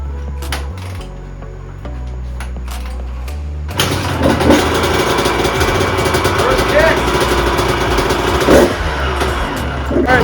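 A 2001 Honda CR125 two-stroke dirt bike with a fresh top-end rebuild and ported cylinder fires up for the first time after a few kicks, then runs on loud and close in a steady, buzzing idle with some blips of throttle.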